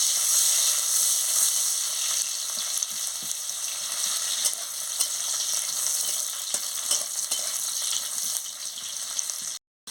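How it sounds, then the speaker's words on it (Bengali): Chopped onion frying in a pan for a Bengali okra chorchori after panch phoron tempering: a steady, dense sizzle with faint crackles and occasional stirring scrapes, continuous and close, ending abruptly. "পেঁয়াজটাকে ভালো করে ভেজে নিচ্ছি।"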